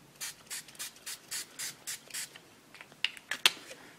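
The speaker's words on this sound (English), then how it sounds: "I think I just sprayed myself" Glimmer Mist spray bottle misting onto Pure Mistable paper, a series of short hissing spritzes in a steady rhythm, about nine bursts, followed by a few sharper clicks and a final spray near the end, close by with no talking.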